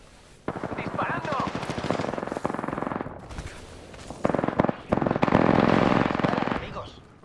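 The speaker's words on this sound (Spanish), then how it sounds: "¡Disparando!" Rapid automatic gunfire in the Apex Legends video game crackles in dense bursts and short volleys, loud and close, with game voice callouts heard between shots.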